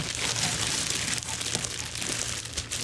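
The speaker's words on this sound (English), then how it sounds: "the actual enclosure itself, which is wrapped in this plastic bag here" Continuous crinkling and rustling of a thin plastic bag being handled and pulled open from around a storage enclosure, close and fairly loud, with no voices.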